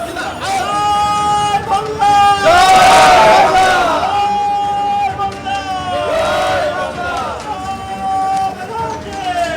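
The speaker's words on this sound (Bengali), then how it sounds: "আমরা শুনতে পেলাম জয় বাংলা স্লোগান" A loud crowd chants and shouts the Joy Bangla slogan outside a vote-counting centre during a West Bengal by-poll, with voices rising and falling in repeated waves of rhythmic chanting amid dense babble.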